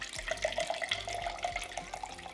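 Shaken lemon and rosemary syrup cocktail poured into a champagne glass, a close, steady trickling splash of liquid lasting a couple of seconds.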